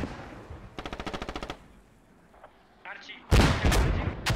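Rapid bursts of game gunfire, then a loud rocket blast with crackling explosions in a tactical video game match, near and punchy, with a caster speaking over it.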